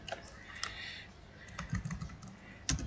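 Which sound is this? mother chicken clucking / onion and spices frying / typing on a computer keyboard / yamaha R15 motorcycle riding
typing on a computer keyboard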